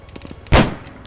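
A single loud gunshot in the military video game ArmA 3, a sharp close blast with a short decaying tail, set against quieter game ambience.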